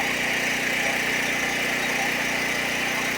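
A faulty Duromax portable generator runs during a test, its engine droning loud and perfectly steady with an unbroken vibrating hum throughout, close by and with no other sounds.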